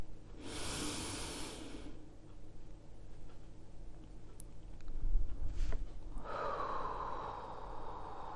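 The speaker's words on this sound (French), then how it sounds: "On inspire." A person breathing in deeply, a clear audible inhale followed later by a softer airy breath, close and alone with faint room noise.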